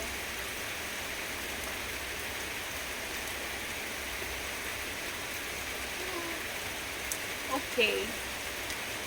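Steady rain falling outdoors, an even wash of drops on surfaces throughout, with a short spoken word and a few light sounds near the end.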